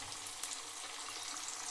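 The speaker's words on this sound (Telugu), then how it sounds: "ఉప్పు వేస్తే ఆనియన్స్ త్వరగా వేగుతాయి ఫ్రెండ్స్" Onions fry with salt in a pan for a Telugu lima bean curry, giving a soft, continuous hiss and sizzle, faint and even, with no talking.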